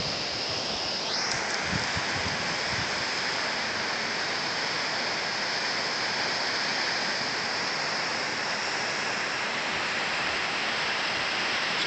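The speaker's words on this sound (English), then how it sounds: "There's a lot of water flowing through there." Rushing water pours steadily in a dense, unbroken roar, like a nearby waterfall, with no voices.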